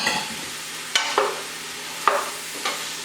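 Potatoes and cabbage frying in a pan give a soft, low sizzle, broken by several sharp clatters as the pieces are stirred and shifted.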